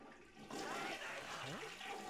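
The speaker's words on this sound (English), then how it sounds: "so we need to go flush the toilet" A toilet flushes in The Sims 1 video game, a sudden rush of swirling water starting after a short lull and gurgling steadily, moderately quiet and heard alone.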